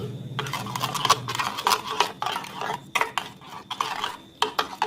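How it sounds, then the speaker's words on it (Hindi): Half a cup of cream being stirred together with salad ingredients in a bowl for Russian salad: close, wet, rhythmic mixing strokes with clicks of a spoon against the bowl, no voices. "इन तमाम चीज़ों को हम अच्छी तरह मिक्स करेंगे"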